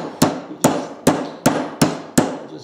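Six evenly spaced sharp hammer blows on a metal punch cutting a sanding disc from foam set on an end-grain wood block, close and crisp with short decay.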